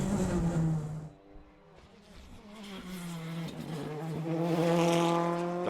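A Ford Fiesta rally car on wet tyres driving a rally stage, its engine whining and rising through the gears in repeated bursts, fairly distant, with a commentator's voice over it.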